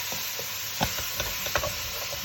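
Mince beef browning in a very hot pan for a curry: a steady close sizzle with a few sharp spatula scrapes and stirs breaking through, no voices.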